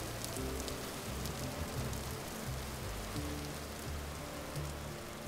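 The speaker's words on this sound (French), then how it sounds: "il pleut moins ici" Steady rain pours down in a survival video game, a dense, continuous hiss of drops on surfaces that stays even and fairly loud throughout, with no voices.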